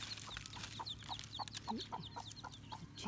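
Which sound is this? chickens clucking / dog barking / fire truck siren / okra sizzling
chickens clucking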